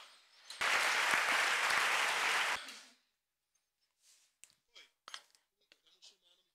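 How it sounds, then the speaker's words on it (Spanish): An audience at a gathering applauds the teachers with a loud, dense burst of clapping lasting about two seconds, then it stops abruptly, followed by scattered faint clicks and rustles in a quiet room. "un gran aplauso a los docentes"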